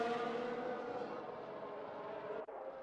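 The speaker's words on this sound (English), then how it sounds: "I imagine once Norris passes Jackson, he's just going to fly" Engine whine of race cars from the F1 2021 video game at the Hungary circuit, a steady high-pitched drone throughout with a brief dip near the end.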